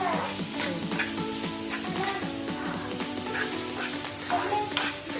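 Onions frying in a pan for a Kerala-style egg roast are stirred with a spoon, giving a steady close sizzle broken by repeated scraping strokes at a brisk, even rhythm, with no talking.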